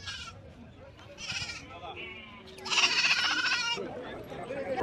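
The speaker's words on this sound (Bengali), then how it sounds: "ছাগলের দল" Several goats bleat in short wavering cries over a busy outdoor crowd at Hazratpur livestock market, with people talking nearby and general market bustle throughout.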